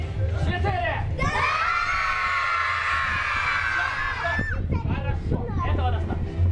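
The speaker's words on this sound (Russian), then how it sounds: "Либо все вместе с первого раза дружно кричим «да»" Outdoor Neptune Day festival crowd of children shouting "yes" together on cue, a loud sustained group yell lasting a couple of seconds, framed by an adult host speaking over a busy crowd before and after.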